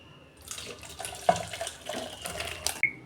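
Water is poured into a pan of mango fish curry in a short, close splashing pour with a couple of sharp clinks.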